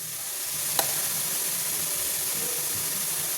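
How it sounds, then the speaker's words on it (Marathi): Grated carrot cooked in ghee for carrot ladoo, with a steady soft sizzle and faint stirring scrapes, one sharp clink near the start, and no voices. "आता गाजर हलवता हलवता इथे मी तुपाचा वापर करणार आहे आणि आपल्याला गाजर चांगलं शिजू द्यायचं आहे."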